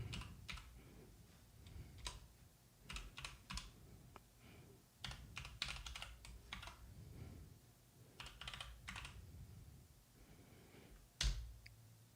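Fingers type on a computer keyboard in quick irregular bursts of clicking keys with short pauses, close but fairly quiet, and a louder single tap near the end.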